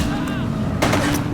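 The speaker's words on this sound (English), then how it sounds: "Shots fired!" Gunshots in the police video game The Precinct: a sharp broadband burst of fire cuts in about midway through, over a steady engine-like hum and a faint voice in the background.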